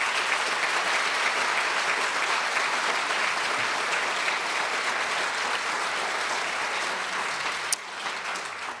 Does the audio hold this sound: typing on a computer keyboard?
no